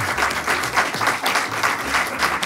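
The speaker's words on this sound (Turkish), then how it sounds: "Buyurun alkış" Studio audience applause on a Turkish late-night talk show, steady and loud, a dense wash of clapping from a crowd filling the whole stretch without a break.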